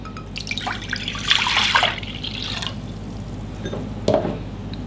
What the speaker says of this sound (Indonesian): Masukkan susu cair